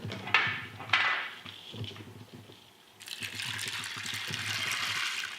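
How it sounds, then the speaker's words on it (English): Water is poured onto beans to soak them, a soft, steady gush starting partway through after a few quiet clicks and knocks in a kitchen. "Next we're gonna add some water."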